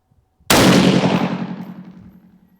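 A single loud rifle shot fired outdoors, a sharp close crack followed by a long ringing decay of about two seconds, with no talk.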